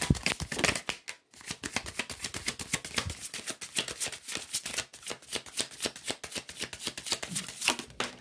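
Tarot cards are shuffled quickly in rapid riffling bursts close up, a dense rhythmic flutter that breaks off briefly near the start and then carries on without speech.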